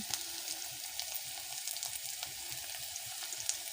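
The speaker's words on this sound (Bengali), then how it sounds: "কাঁচা লঙ্কাটাও ভেজে নেব ভালোভাবে" Green chilies frying in a pan give a steady, close sizzle with scattered small pops and occasional stirring sounds, continuous and moderately loud.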